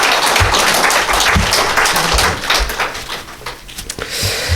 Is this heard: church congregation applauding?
yes